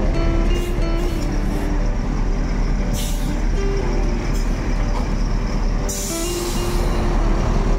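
A Volvo B11R coach idles with a loud, steady diesel rumble, and its air brakes release two sharp hissing bursts partway through.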